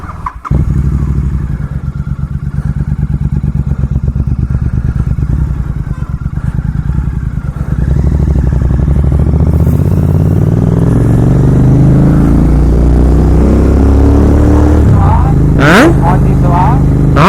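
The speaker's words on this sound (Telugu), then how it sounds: "దీని సైలెన్సర్ కూడా మార్పింగ్ చేశాను నార్మల్ స్టాక్ వేయించాను" A motorcycle fitted with a modified stock silencer idles and revs close by, a steady throaty engine drone that climbs in pitch as it accelerates, with talk over it.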